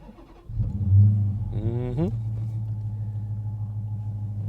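A 2022 Dodge Challenger engine cranks briefly, catches with a loud rev, then settles into a steady low rumbling idle close by.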